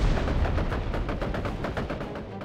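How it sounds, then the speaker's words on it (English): Rapid bursts of machine gun fire in the World War Armies game, a fast rhythmic chatter of a dozen or more sharp shots in quick succession, loud and close with no talk. "Machine gun is ready to be used."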